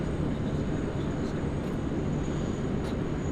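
An Air Canada airliner takes off from runway 16 right at Sydney Airport, its constant broadband jet rumble holding steady from start to finish, with no talk over it.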